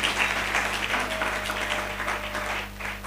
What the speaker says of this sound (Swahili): Yeah, tupige makofi mazuri ya authorization ya Pastor Mwaura.